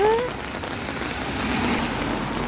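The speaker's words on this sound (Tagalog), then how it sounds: "Sobrang lakas ng ulan." Heavy rain pours down outdoors in a steady, dense hiss and patter that stays loud and close throughout, briefly overlapped at the start by a faint voice-like tone.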